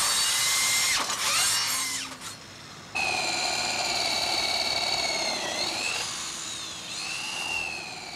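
An electric power drill runs with a high, whining motor tone that shifts in pitch, briefly dropping off before spinning up again and running steadily.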